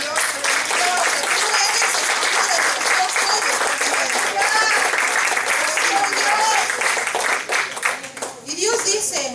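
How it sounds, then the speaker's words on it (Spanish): Church congregation applauding together in a sustained, dense round of clapping that stays loud throughout, with cheers and voices mixed in and tapering slightly near the end. "Dale un aplauso a Dios."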